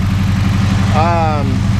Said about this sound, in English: Revs up just fine.